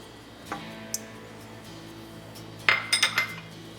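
Spatula scraping and tapping sour cream into a bowl while making lemon ricotta cheesecake, a few soft clicks followed by a quick run of bright clinks against the bowl, close and quiet.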